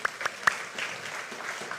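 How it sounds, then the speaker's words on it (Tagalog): A church congregation claps in a short scattered burst, a few sharp separate claps at first, then a looser patter of hands that trails off quickly. "Pumalakpak ka mga excited."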